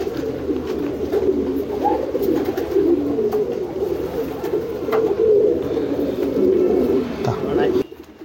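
Domestic racing pigeons at a breeder's home loft coo in a steady, overlapping, near and fairly loud murmur that runs throughout.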